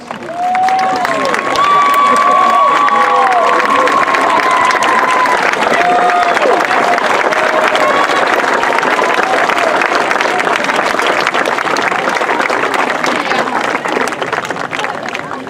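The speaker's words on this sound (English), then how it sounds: "students, with an applause, please thank them for what they have begun in your lives" At the Keystone Oaks Class of 2018 commencement ceremony, a large crowd breaks into loud, sustained applause mixed with cheers, whoops and high shouted voices, filling the whole stretch with dense noise.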